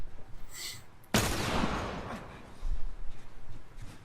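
Gunfire in The Last of Us, a sharp loud burst cutting in partway through and trailing into rumbling noise, with faint chatter around it.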